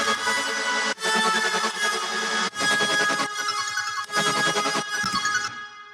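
A dense, bright synth lead group from an electronic dance track plays on its own in choppy bursts that sound like call and response. Short gaps break the phrases, and it stays steady and loud with no voices.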